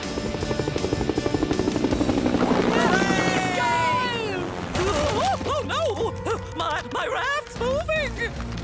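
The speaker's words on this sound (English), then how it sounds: "Next up, the ultimate copter." A cartoon rescue helicopter from PAW Patrol flies with a rapid, pulsing rotor beat that fades into a whooshing engine drone, under excited cartoon voices, background music and sound effects.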